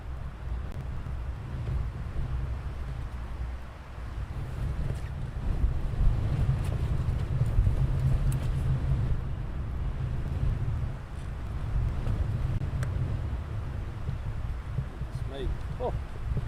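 Strong wind buffets the microphone at an airfield near military fighter jets, a steady loud low roar of gusts that rises and falls over the whole stretch with no clear voice on top.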